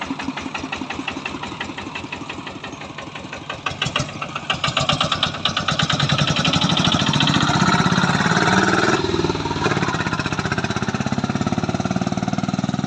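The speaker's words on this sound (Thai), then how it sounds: "เครื่องยนต์ 14 แรงคูโบต้านะครับ" A 14-horsepower Kubota small diesel engine on a six-wheel farm truck chugs close by, its rapid knocking beat growing louder and steadier as it revs up and keeps running.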